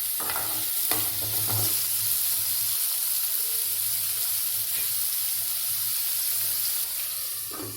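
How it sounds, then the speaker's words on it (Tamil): Chopped onions sizzle and hiss steadily in hot oil in a pan while being stirred, for a vada curry, with occasional clinks of the spoon against the pan and no talking. "வெங்காயம் ஆட் பண்ண உடனே நல்லா வதக்கி விட்டுக்கலாம்"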